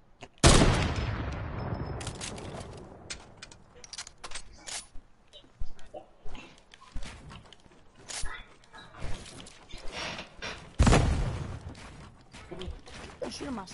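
Bursts of gunfire ring out during a shooting game, sharp cracks scattered irregularly through the stretch, with louder clusters near the start and again later, while a person talks over the action.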